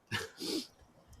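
A single sneeze, quiet and close: a sharp intake bursts into a brief double-pulsed expulsion, then fades into near silence.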